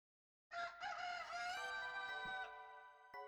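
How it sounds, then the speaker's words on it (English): A rooster in the Alundra game crows from a sudden start, the long drawn-out calls ringing loud and clear with a second crow layered in, ending with a short sharp click. "Oh, they have roosters crowing."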